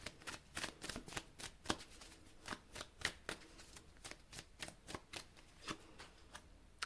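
Tarot cards being shuffled by hand, a series of quick soft riffling flutters and taps in an irregular rhythm, close and quiet with no talking.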